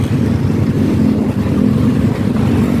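Suzuki Smash fuel-injected motorcycle engine runs loud and close, a rough continuous low rumble with slight fluctuation throughout.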